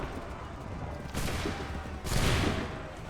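Soldiers fire a musket volley in Assassin's Creed 3, two loud crackling bursts about a second apart over a murmuring battlefield din with shouted voices in the background.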